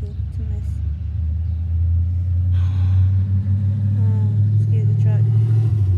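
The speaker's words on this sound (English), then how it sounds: "excuse the truck coming" A truck passes on a nearby road as a steady, loud, low engine rumble that swells slightly, heard under someone talking throughout.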